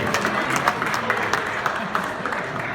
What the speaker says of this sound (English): Nice round of applause for Jim Lasasso.